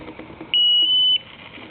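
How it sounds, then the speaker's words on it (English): MSA Altair 5X multigas detector sounding one sustained electronic alarm beep lasting about half a second as it powers on, loud and clear over faint room noise. "It'll immediately alarm when it first turns on"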